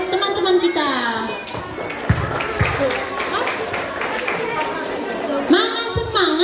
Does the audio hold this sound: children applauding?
yes